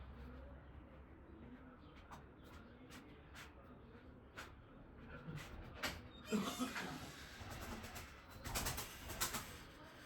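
Pigeons, white and lemon-colored fancy birds kept for sale, coo softly at a distance, with scattered wing flutters and clicks growing busier in the second half, a faint voice now and then.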